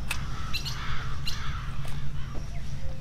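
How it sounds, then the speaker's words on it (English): Crows caw in the video game 35MM, several short harsh calls scattered over a steady low ambient rumble, fairly distinct but not close. "Crows."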